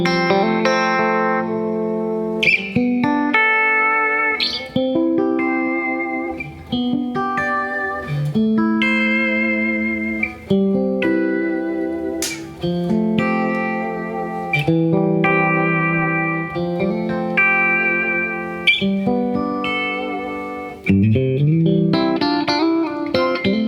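An electric guitar plays a continuous run of sustained notes and chords through a 1971 Fender Vibrolux amp, with volume, bass and treble at 5 and a touch of reverb at 2.5, into a vintage Vibro 112 cabinet miked with a 121 mic.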